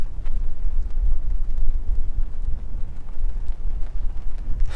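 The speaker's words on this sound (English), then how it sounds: "it can get quite windy, as you can see from these prayer flags" Strong mountain wind gusts in Leh, Ladakh buffet and rumble with a low, roaring blustery noise, loud and continuous, around prayer flags.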